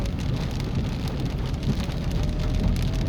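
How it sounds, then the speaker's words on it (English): Rain pours steadily while a car drives in Kingston, Jamaica, from Half Way Tree toward Constant Spring Road. A dense, continuous hiss and patter sits over a low road rumble throughout, with no talking. "it's raining"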